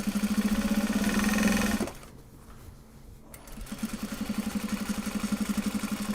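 A sewing machine runs top stitching on a Japanese fabric project bag, a fast steady needle rhythm that stops for about a second and a half, then starts again and keeps going.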